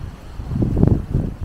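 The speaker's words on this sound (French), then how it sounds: "Le vent, il est vraiment glacial." Gusty, icy cold wind at about 3 degrees buffeting close to the microphone, a low rumbling roar that swells in the middle and eases off, with no voices.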